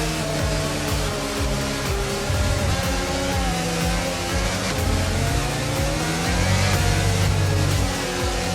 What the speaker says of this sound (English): As all the cars take their positions on the grid